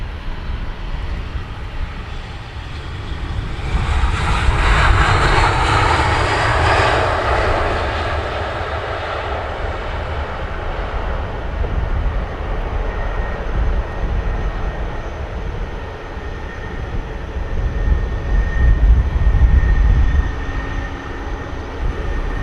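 An EasyJet airliner departs Luton Airport in the early morning, its engine roar swelling loudly and then holding as a sustained, rumbling thrust that stays strong to the end.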